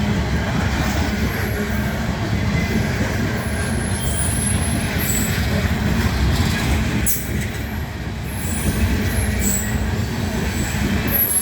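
Loud, close rumble of a passing freight train with high wheel squeals piercing through, and occasional dull bumps as cars roll over rail frogs.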